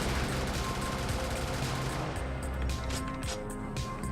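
Dense, continuous gunfire from a mech in the video game Brigador, loud and sustained with rapid overlapping shots that never pause across the whole stretch.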